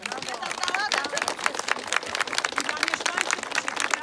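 Applause from a gathered crowd at the consecration of a roadside chapel and statue of Saint Stanislaus in a Polish village, steady dense clapping lasting throughout with some crowd murmur mixed in.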